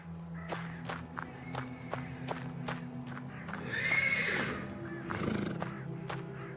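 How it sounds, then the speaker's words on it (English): A horse neighs loudly midway in the video game Black Book, preceded by steady hoof clops and a low background hum, with a second shorter whinny near the end. "The persistent neighing of a horse can be heard from the stables."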